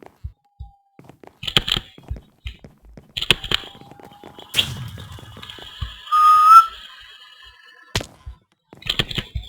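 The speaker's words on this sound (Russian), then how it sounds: "Свистим, ребятки." People whistle in short bursts, with one clear sliding whistle near the middle, amid sharp knocks and clicks in an online game setting.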